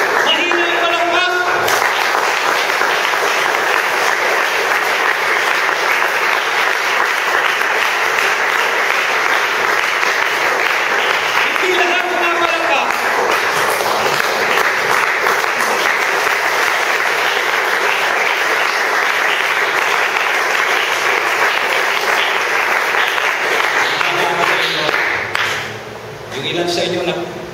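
Sustained applause from a church congregation, loud and dense throughout, with a few voices mixed in before it thins out near the end.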